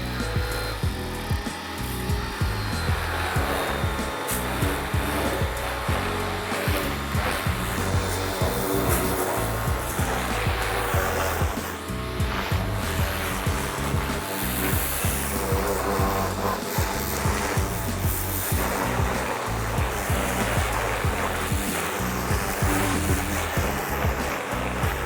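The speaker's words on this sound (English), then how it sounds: "we're going to go ahead and start rinsing these wheels to try and get all this little dirt and stuff off here" Steady, close spray of water rinsing brake dust and dirt off car wheels, a continuous broadband hiss that runs uninterrupted and fairly loud throughout.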